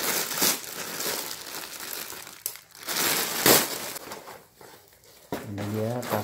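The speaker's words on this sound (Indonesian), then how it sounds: "Jadi kita coba unboxing." Crinkling and crushing of plastic packaging while a Happy brand semi-carrier ultralight backpack of about 40 liters is unboxed, a steady close rustle that swells and fades, with a person speaking over it and more clearly near the end.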